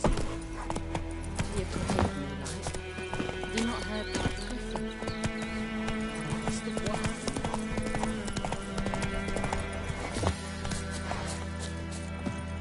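In the video game The Witcher 3, a horse trots with quick rhythmic clip-clop hoofbeats and a whinny, set against game music, with someone speaking briefly over it.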